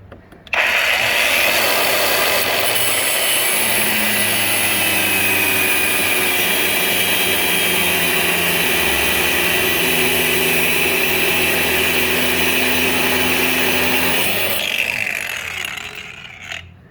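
A power tool grinds steadily through a stabilizer link bolt on a 2014 Nissan Versa. The loud, continuous high whine holds for about fourteen seconds before it winds down, close to the listener, with no talking.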